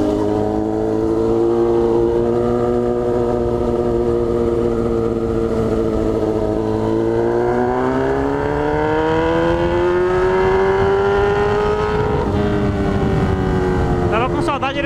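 Honda Hornet four-cylinder motorcycle engine roaring close by, a loud sustained rumble rising and falling in pitch as the throttle swells and eases over about fifteen seconds.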